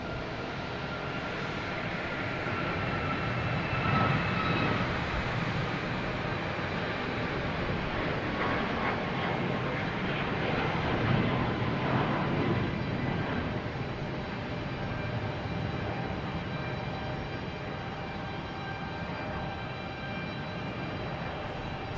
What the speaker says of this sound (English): Hey, we have United Airlines here heading to Denver.